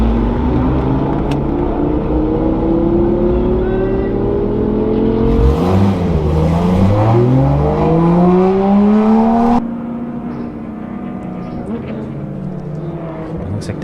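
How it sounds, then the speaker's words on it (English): A GT3 race car on the Circuit of the Americas track, its engine note rising and falling loudly through gear changes as it rolls into turn one, with commentators talking over the continuous roar. "that beautiful GT3 rolling into turn 1"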